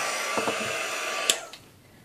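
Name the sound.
heat gun running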